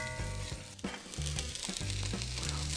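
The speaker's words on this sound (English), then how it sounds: "we're just gonna stir this in, let this cook down for a few minutes" White onions sizzling and softening in a hot pot for smoked tri tip competition chili, a steady close frying hiss with a few soft stirring scrapes.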